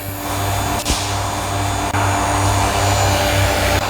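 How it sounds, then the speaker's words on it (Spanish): A vacuum pump runs steadily during a compressor oil change, giving a constant close hum with a low droning tone, broken by a couple of brief clunks. "la bomba ya está en marcha"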